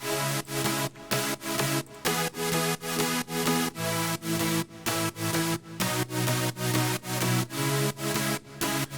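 Synth chords in a progressive house track made in FL Studio pulse in a steady rhythmic pattern, each chord cut off sharply by rhythmic gating, looping evenly with no voices.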